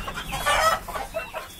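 A village rooster among fighting and country chickens lets out a short, loud crow up close, followed by a few softer clucks.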